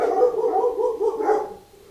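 Dogs bark repeatedly in a quick run of loud, close yips and barks at a house, as if reacting to someone passing outside, then trailing off at the end.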